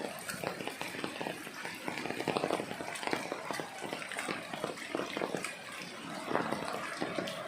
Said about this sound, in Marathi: त्याच्यावर पूर्णपणे पाणी वाहत आहे रस्त्यावरून